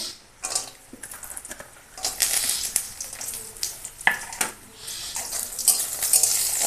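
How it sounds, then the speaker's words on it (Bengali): Lentil dumplings (bori) fry in hot oil in a kadai, with a steady sizzle and crackle, stirring scrapes and occasional utensil knocks. The sound grows louder after the first couple of seconds. "বড়িগুলো ভেজে নেবো"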